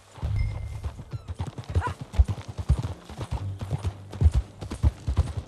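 Horse hooves in the video game Red Dead Redemption 2 clip-clop in a quick, uneven galloping rhythm, close and fairly loud, with a brief neigh early on.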